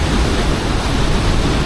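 Dolgoch Falls in North Wales, a waterfall among mossy rocks, pours as a steady, loud, broadband rush of water close by with no pauses and no voices.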